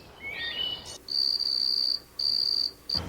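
Shrill cricket-like chirping comes in three trilling bursts with short gaps, a stick rubbed against a wooden wheel producing a scraping that closely mimics an insect's chirp.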